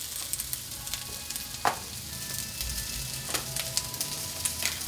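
Asparagus and other vegetables fry in hot oil with a steady, close crackling sizzle, punctuated by a few louder pops and stirring scrapes.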